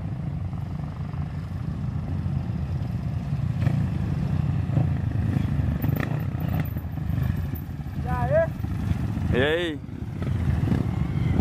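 Trail dirt bikes on hilly town roads, engines droning and revving at a moderate distance, with people talking over the noise.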